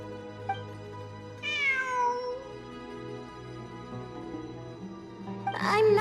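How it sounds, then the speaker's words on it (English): A cat meows in the video game Genshin Impact, two drawn-out, falling cries, one early and one near the end, rising clearly above a quiet, sustained musical background. "I'm not hearing things. It really is a cat."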